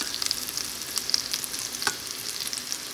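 Lentil fritters (bora) fry in hot oil, several dropped into the pan together, giving a steady, close crackling sizzle with sharp pops scattered throughout.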